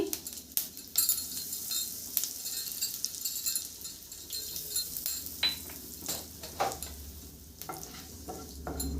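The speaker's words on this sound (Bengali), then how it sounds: "ফুড়নে দিয়ে দিব এক চামচ জিরে একটা তেজপাতা এক চুটকি হিং" Cumin seeds, a bay leaf and a pinch of asafoetida sizzle in hot oil for a Bengali peas masala, a loud steady crackle broken by sharp pops and clinks of stirring, with no talking.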